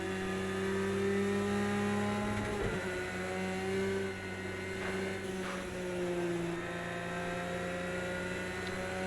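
A Porsche 911 GT3 engine in the Project Cars 2 racing game, a sustained droning engine note with steady harmonics that dips and shifts pitch slightly, loud and continuous with no talk.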